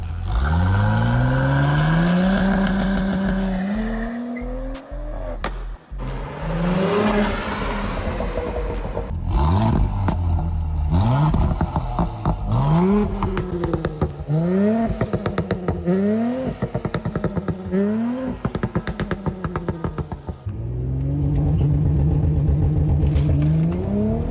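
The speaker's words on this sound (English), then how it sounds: "The burbles this thing has been producing are just literally perfect. So crispy." A modified Audi S4 B9.5 with an aftermarket downpipe revs hard and close, its engine note repeatedly climbing and falling, with crackling exhaust burbles and pops between the loud pulls.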